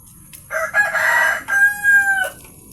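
A sweater gamefowl rooster crows twice in close succession, near and loud, each crow a long harmonic call breaking into a drawn-out tail, with a low hum of background noise underneath.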